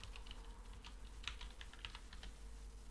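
Someone types a folder name on a computer keyboard, a steady patter of light key clicks with a few louder taps over a low background hum, close by and with no voices.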